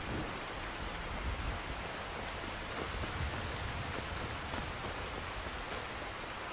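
Heavy rain in Skyrim with the True Storms mod pours down in a dense, constant hiss, loud and unbroken throughout, with no voices.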